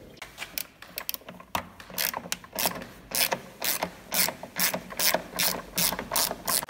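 A ratchet wrench clicks in rapid bursts of back-and-forth strokes while loosening parts on a car engine, close and fairly loud, with short pauses between bursts and no talking.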